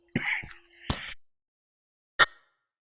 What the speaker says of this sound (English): just had to cough